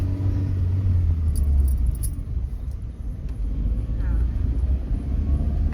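A father's car being driven, heard from inside the cabin as a steady low engine and road rumble that continues throughout, with faint voices now and then.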